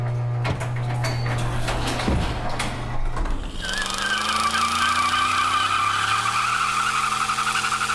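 The cartoon Bedazzle-mobile lurches off with a rattling clunk, then its tires squeal in a long, loud skid as it speeds away, the screech holding steady to the end.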